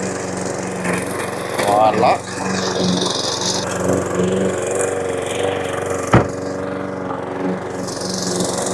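A lawn mower cuts grass to lay out a home RC car track, its engine droning steadily at close range, with occasional knocks and brief remarks from people nearby.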